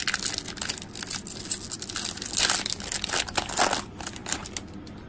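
Dollar store Pokémon card packs being torn open: close, loud crinkling and tearing of foil wrappers in repeated bursts, with rustling as the packs are handled.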